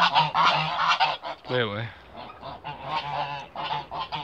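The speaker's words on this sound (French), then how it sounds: "Des oies, des canards de Barbarie, du canard indien." Geese on a French permaculture farm honk loudly and repeatedly close by, joined by other farmyard fowl such as Muscovy and Indian runner ducks, with a brief spoken word in the middle.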